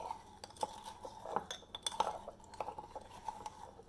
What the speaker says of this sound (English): I'm going to like stir this around a little.